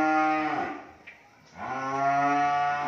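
Cattle moo at a cattle farm holding ten-month-old cows, two long, loud, close calls separated by a brief pause, with no talk over them.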